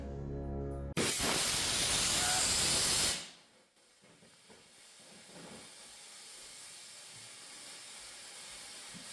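Homemade rocket motor taped to a homemade skateboard fires with a sudden, very loud roaring hiss lasting about two seconds, then cuts off abruptly into faint outdoor background noise.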